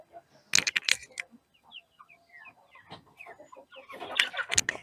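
Young hens and chickens in a poultry yard with ducks, several close clucks and short squawks in scattered bursts, with rustling and handling noise between them.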